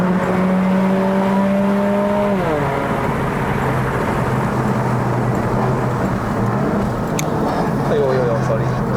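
Engine of a 2008 Toyota Corolla Altis 1.8E (E140) revving high on an uphill mountain road, a steady loud drone that dips as revs drop, with someone talking over it.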